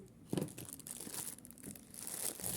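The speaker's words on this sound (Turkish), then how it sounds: "Öncelikle cihazı poşetinden çıkarıyoruz." Plastic bag crinkling as a wired programmable room thermostat is unpacked, close, quiet rustling and crackling in irregular bursts, with a sharper crinkle near the start.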